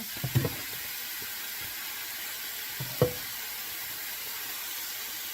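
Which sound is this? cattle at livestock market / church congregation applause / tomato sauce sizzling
tomato sauce sizzling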